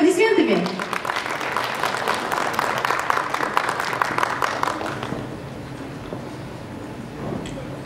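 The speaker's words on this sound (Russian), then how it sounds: "Встречайте аплодисментами" Audience applause for a children's Cossack song ensemble at a stage performance, a dense, steady wash of clapping that runs for several seconds and then gradually thins out toward the end.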